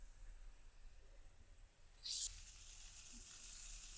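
Poha sizzling in a hot pan with onion, chili and turmeric for a Maharashtrian breakfast, a steady faint frying hiss with a brief louder burst as the flakes go in.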